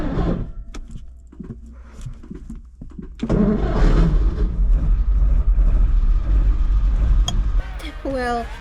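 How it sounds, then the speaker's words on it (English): A vintage Ferrari turns over and fires into a loud, rumbling idle after quiet clicks and handling noises, the engine note settling steadily close by before a squeak at the end. "Well, the Ferrari started, but Gromit was grumpy again."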